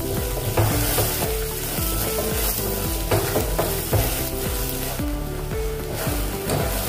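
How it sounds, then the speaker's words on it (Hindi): A close, continuous sizzle of ginger-garlic paste frying in hot oil, with rhythmic stirring and scraping strokes against the pan throughout. "अभी 1 मिनट इसको भी हम भूनेंगे, अदरक और लहसुन को।"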